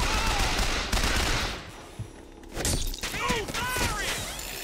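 Gunfire in the video game Bioshock Infinite, several loud bursts and shattering impacts crowding together, with chirping game effects in the second half and no clear talk over it.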